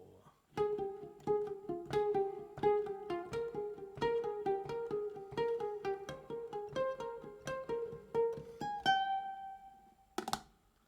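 Ukulele plucks the X-Men animated series theme, a steady run of bright single notes with a melody that climbs and repeats, ending on a held ringing note and a final strum; no voices.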